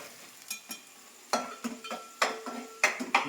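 Onions and green chillies frying in oil in a home kitchen pan: a low background sizzle broken by irregular clinks and scrapes of a spoon against the pan, close and moderate.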